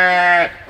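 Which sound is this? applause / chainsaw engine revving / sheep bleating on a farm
sheep bleating on a farm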